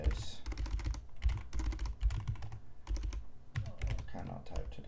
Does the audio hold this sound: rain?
no